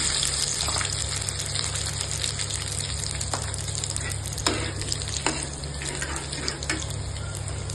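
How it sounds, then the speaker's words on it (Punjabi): Cumin seeds and garlic frying in hot oil in a kadai, a steady close sizzle with a few louder crackling bursts, no talking. "ਕੜਾਈ 'ਚ ਆਪਾਂ ਤੇਲ ਗਰਮ ਕਰਿਆ ਸੀ। ਹੁਣ ਜੀਰਾ ਪਾਵਾਂਗੇ, ਨਾਲ ਹੀ ਲਸਣ ਪਾਵਾਂਗੇ"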